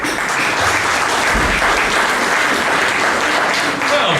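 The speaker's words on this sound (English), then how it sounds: "That was a lovely round of applause." An audience claps steadily to welcome an entertainer onto the stage, a dense, even burst of applause that stays loud for several seconds.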